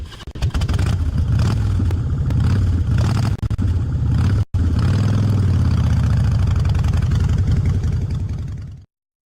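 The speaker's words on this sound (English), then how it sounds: "Brilliant. Motorcycle." A motorcycle engine runs steadily and loud, a low rumbling drone that holds for about nine seconds with one brief cut midway, then stops abruptly.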